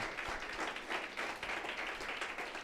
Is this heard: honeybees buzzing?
no